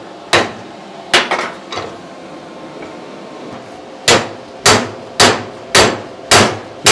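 A hammer strikes a freshly welded steel joint in sharp, ringing metallic blows, three spaced hits and then five more in a quick, steady rhythm, close and loud with no talk.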